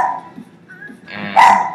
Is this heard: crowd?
no